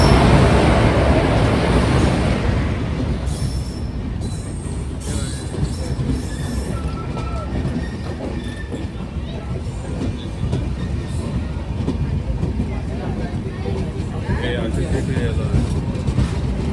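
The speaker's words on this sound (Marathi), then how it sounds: "आता आमची ट्रेन आली." A Jan Shatabdi Express train pulls into a station, a loud, steady rumble of rolling wagons with high metallic wheel squeals and faint clicks over the rails, sustained and close throughout.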